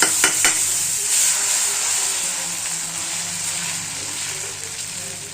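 Jowar dosa batter fries in oil on a pan, giving a continuous bright sizzle with a couple of sharp clicks at the start, steady and close.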